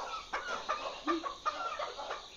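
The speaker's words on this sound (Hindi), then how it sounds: "तो कुछ मुर्गियाँ भागी भी हैं और बाकी के यहाँ पर हैं" Several chickens cluck and squawk around a coop door, some having run off while others wait to get in; short overlapping calls come close together at a steady, near level, with no talking.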